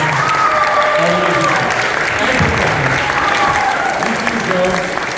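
An audience gives performers a loud, steady round of applause at a summer music show, sustained clapping throughout with voices speaking over it.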